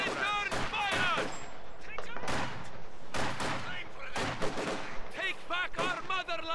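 Gunfire in Company of Heroes 2 with Soviet troops crackles in repeated bursts and sharp volleys throughout, dense and loud, under shouted in-game voice lines and commands.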